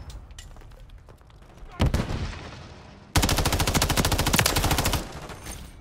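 Video game gunfire: a short burst of shots, then a louder, sustained run of rapid automatic fire with evenly spaced pulses lasting about two seconds before cutting off.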